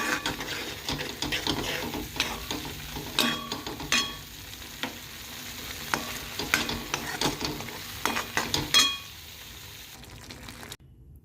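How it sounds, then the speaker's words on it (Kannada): Soya chunks being stirred with masala and ground paste in a pan, giving a steady close scraping and soft sizzle with irregular spoon knocks throughout, stopping near the end. "ಹಾಕಿ ಅದನ್ನು ಕಲಿಸ್ತಾ ಇದ್ದೇವೆ"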